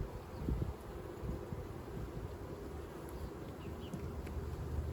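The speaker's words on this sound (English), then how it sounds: "These bees aren't super" Honeybees buzz around a hive frame from a swarm that moved in, a close, continuous droning hum with individual bees passing near, plus some light rustling and wind.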